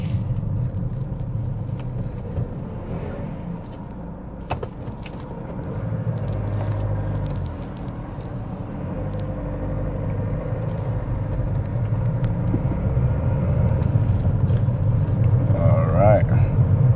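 A car drives through busy Central London traffic with a steady low engine rumble and road noise that swells gradually over time, alongside faint surrounding traffic and occasional clicks inside the cabin.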